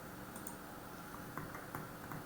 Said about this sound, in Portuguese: cliquei com o botão direito do meu mouse